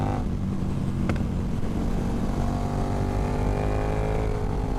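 A KTM motorcycle, a 1390 or 1290 with exhaust baffles removed, drones as a steady low engine and exhaust roar at cruising speed with some wind rush and a gradual rise in pitch, continuous and fairly loud.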